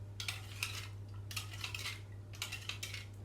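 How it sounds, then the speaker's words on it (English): A spoon stirs an orange cake topping with undissolved sugar in the bottom, scraping and clinking against the bowl in faint, repeated bursts over a low steady hum. "You can hear the sugar still in the bottom, but it won't dissolve because we're not warming it"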